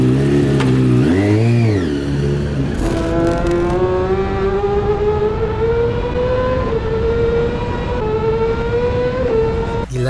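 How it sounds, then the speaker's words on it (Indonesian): Yamaha R6 World Supersport bike with an inline-four flat-plane crankshaft engine and racing exhaust, revving to a high scream: a brief blip and dip, then a long, loud, steadily rising wail close by. "menambah kemerduan suara mesin R6 yang berkonfigurasi inline 4 flat plan"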